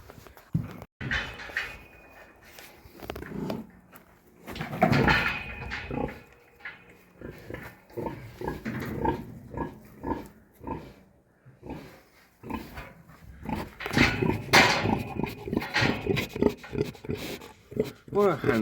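Pigs grunt and oink at a farm pen in a series of short, rough grunts and snuffles, some loud and close, with people talking over them throughout.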